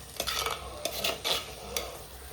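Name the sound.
stirring ginger-garlic paste and pepper into chicken curry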